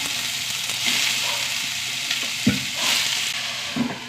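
Cabbage dropped into a hot frying pan with dried red chillies for a Palakkad-style dish, a steady close sizzle with stirring scrapes and a couple of sharp clatters, no voices.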